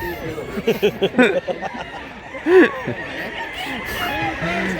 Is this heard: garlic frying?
no